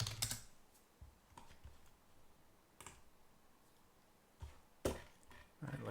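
A few sparse keystrokes tapped on a computer keyboard, quiet, close clicks separated by pauses over a faint room hiss.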